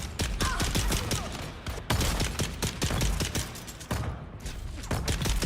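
A level 3 turret fires nonstop in Dune: Awakening's Deep Desert, throwing out a dense, rapid stream of sharp, punchy shots with only a few brief breaks.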